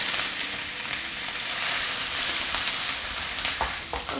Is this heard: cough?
no